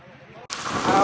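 Rain falling during a trip home from the Hastagiri Jain pilgrimage temple, a dense steady hiss that cuts in abruptly partway through and stays loud and close to the end of the brief moment.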